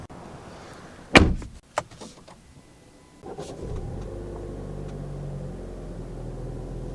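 A 2023 Alfa Romeo Giulia Ti's door closes with a sharp, close thunk followed by a smaller clack, then a soft low cabin hum sets in and continues.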